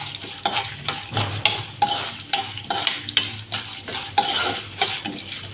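Mustard seeds, cumin, split lentils and peanuts fry in hot oil for mango rice, a close crackling sizzle with repeated metal spoon scrapes and stirring clatters against the pan.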